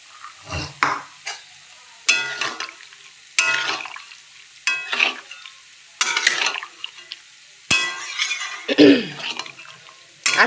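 Boiled black and white chickpeas are tipped into a pan and stirred, giving short bursts of scraping and sizzling separated by quiet gaps, with no talking.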